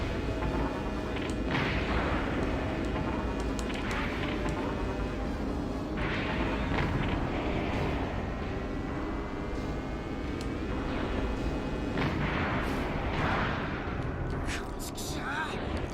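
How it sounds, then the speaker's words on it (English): Cannon fire from a train in the Speed Power Gunbike video game, a series of booming blasts every couple of seconds over a constant roaring game background, with talk over it. "And yes, getting hit by that cannon hurts quite a bit."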